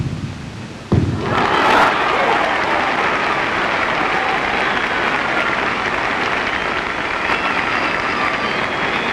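At the 1965 Illinois high school boys gymnastics state finals, a crowd in a gym bursts into loud applause after a double back somersault landing, and the clapping holds steady and dense for several seconds.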